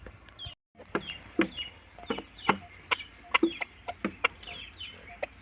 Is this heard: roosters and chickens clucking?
yes